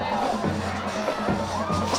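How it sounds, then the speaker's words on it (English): An excited high school football cheering section in the stands at Slidell High, with a loud rolling mix of crowd cheers, shouts and babble and a steady low hum under the noise. "Fired up cheering section for Slidell as Bayham calls for it"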